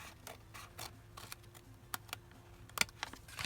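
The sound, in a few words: cutting into a paper trifold envelope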